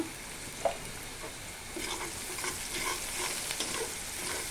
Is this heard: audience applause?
no